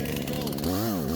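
A chainsaw fitted with a new spark plug, choke half open, fires up with a rough buzzing idle that rises and falls in pitch, close and loud, with a voice briefly audible.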